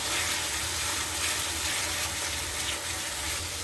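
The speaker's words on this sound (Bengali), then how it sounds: "সবকিছু একটু ভেজে নেব যেন কাঁচা গন্ধটা চলে যায়।" Chili powder, spices, ground nut paste and coconut paste frying in a pan for egg korma, a steady, close, hissing sizzle that stays even throughout with no talk.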